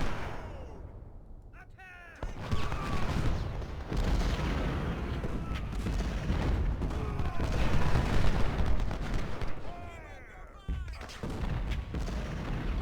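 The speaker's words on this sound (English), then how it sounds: "now my 20-pounders and stuff are shooting" Twenty-pounder artillery fires in Ultimate General: Civil War, repeated booming shots and rolling gunfire over a battle din, with someone talking over them.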